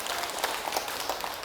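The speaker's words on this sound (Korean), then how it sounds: "박수 한번 쳐주셔야죠" Applause from an audience at a talk in Seoul, a short burst of steady clapping heard fairly near, with a few louder individual claps standing out and no talk over it.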